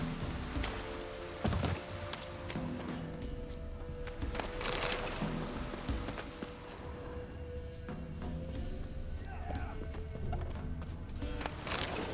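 Steady rain in the video game The Witcher 3 patters on a hard surface, a dense constant hiss of drops with occasional louder splashes throughout.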